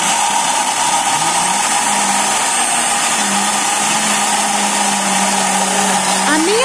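An electric blender whirs continuously at high speed, beating cornmeal cake batter, a loud steady drone close by with a slight shift in pitch near the end.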